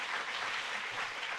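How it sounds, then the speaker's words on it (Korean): A church congregation at a New Year's Eve service applauds to God with a dense, steady wash of clapping, heard briefly and at a distance. "하나님께 영광의 박수를 좀 올려드리면 좋겠습니다"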